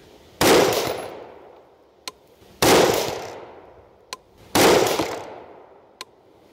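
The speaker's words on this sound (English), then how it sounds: "I'm going to start right out of the gate here, right in the middle with 3 total shots." A rifle fitted with a Vortex Venom 5-25 FFP scope fires three loud, evenly spaced shots at a shooting range. Each crack booms and rings out, and a short sharp click follows each one.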